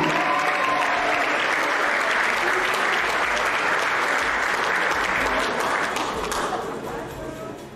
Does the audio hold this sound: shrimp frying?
no